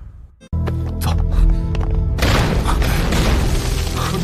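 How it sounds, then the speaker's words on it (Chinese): Explosives going off in a drama scene: after a quiet moment comes a loud sudden boom with clattering debris, followed by a dense, sustained rumbling roar. "这炸药怎么会提前爆炸？"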